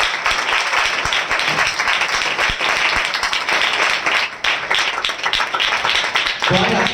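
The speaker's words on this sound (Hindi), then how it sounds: "ताली बजाकर एक दूसरे का स्वागत करें।" A church congregation claps to welcome one another, a dense, loud burst of applause that runs throughout, with a voice speaking over it.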